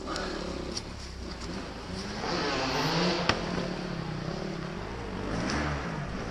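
A motorcycle stuck off-road near a tree revs steadily at close range, its engine droning and swelling in pitch and loudness, with a single sharp knock partway through.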